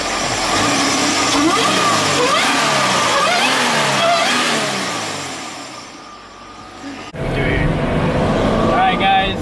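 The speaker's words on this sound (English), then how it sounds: "Give you guys a little rev." A Subaru BRZ fitted with an Innovate supercharger revs hard, rising and falling engine sweeps up close, easing off briefly before roaring again, with people talking over it.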